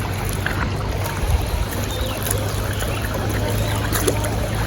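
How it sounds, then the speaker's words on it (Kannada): A shallow river being waded across at Muthathi flows with a steady, close, low rushing wash and faint trickling, continuous throughout with no voices. "ಹರಿಯುವ ನೀರು"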